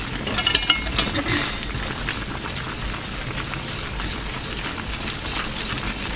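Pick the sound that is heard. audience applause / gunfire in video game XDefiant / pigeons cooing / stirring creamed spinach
stirring creamed spinach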